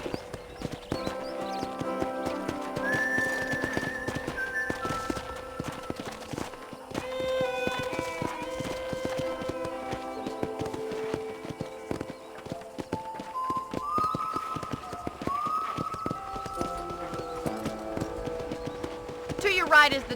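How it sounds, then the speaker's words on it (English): Horse hooves clip-clop steadily during a ride in the Red Dead Redemption video game, mixed with music and a character's speech running throughout. "let's see if you can still ride a horse"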